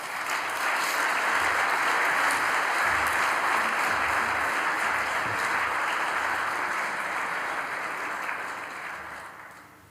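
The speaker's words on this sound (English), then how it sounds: "But first an applause for my speech." An audience gives sustained applause after a speech by the NATO Secretary General, a dense, even roar of clapping from many hands that fades out toward the end.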